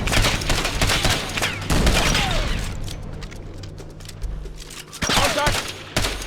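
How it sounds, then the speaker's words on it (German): Rapid bursts of automatic gunfire and heavy fusillades crackle loudly in the video game Ghost Recon Advanced Warfighter, with a brief lull before further shots. "Stehe unter Beschuss!"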